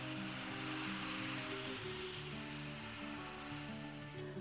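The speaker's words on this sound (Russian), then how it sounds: "Набираем половник теста и наливаем на сковородку тонким слоем." Pancake batter hits a hot frying pan and spreads in a thin layer, a faint, continuous hiss and sizzle that holds steady throughout with no talking.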